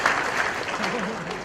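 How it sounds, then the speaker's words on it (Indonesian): A crowd at an Indonesian halal bihalal gathering with a fisheries minister gives brief applause, soft clapping that blends with a voice speaking over it for a moment. "Tepuk tangan buat ikan."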